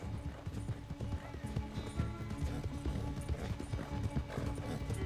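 Horse galloping in the Red Dead Redemption 2 video game, a steady rhythmic clip-clop of hooves running continuously over a low rumbling bed, with a brief hint of a whinny and no talking.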